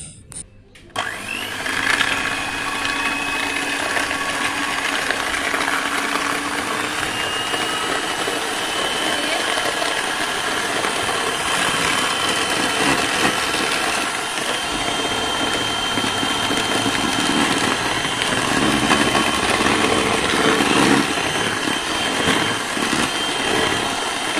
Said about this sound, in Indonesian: Nah, sekarang tinggal kita mixer ya.